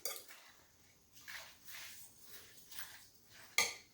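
Pickles, cucumbers and onion being stirred in a sugary liquid in a bowl, several soft wet swishing strokes ending in a sharp clink of the utensil against the dish, no talk.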